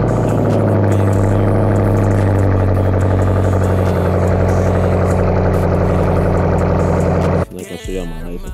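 A Ford Mustang GT CS with a 4.6 liter V8 and a newly fitted aftermarket exhaust idles with a loud, steady, deep rumble for several seconds before it cuts off abruptly and a voice speaks briefly.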